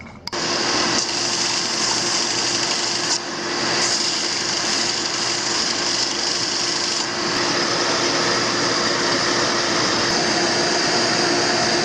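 A loud, steady power-tool whine runs continuously while sanding a hinge, with a brief dip in pitch and load partway through; no voices.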